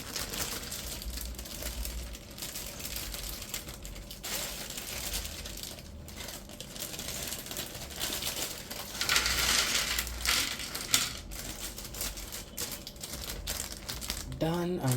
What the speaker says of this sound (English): Let us unwrap bag number 1.